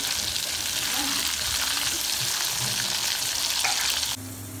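Fish frying in a covered pan for a Tamil fish fry, a steady close sizzle and crackle filling the whole stretch, cutting off abruptly near the end to a quieter hum.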